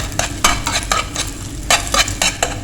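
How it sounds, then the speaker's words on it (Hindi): An egg is stirred and cooked in a frying pan, with repeated quick scraping and tapping strokes of a utensil against the pan over a low steady sizzle, close by with no talking. "चलें जी, अब इसको कर लेते हैं मिक्स, क्योंकि हमें कच्चा पक्का सा अंडा चाहिए"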